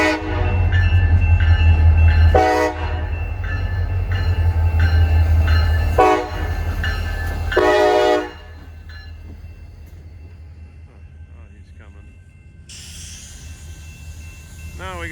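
A CSX freight train passes close by with a loud, steady low rumble and wheel noise, sounding its horn in several long blasts before the roar drops away to a quieter background.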